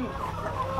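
Tiger breed chickens on a small farm of about seventy birds cluck softly and steadily, a brief continuous murmur of farmyard fowl at moderate distance with no talk.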